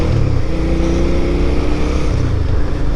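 A Suzuki V-Strom motorcycle cruising on the road, a steady loud engine drone mixed with wind roar, continuous and close, with no talk.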